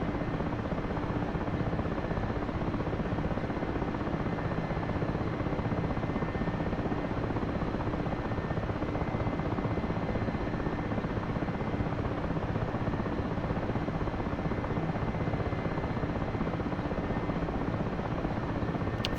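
Helicopter engine and rotor in a flight simulator game, a steady, loud, unbroken drone filling the whole stretch with no talking, as the aircraft hovers and taxis with stability augmentation engaged.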